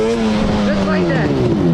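Yamaha Banshee ATV engine revving loud and close as the clutch is popped, a steady buzzing two-stroke tone that sags slightly in pitch across the short burst, with a voice present underneath.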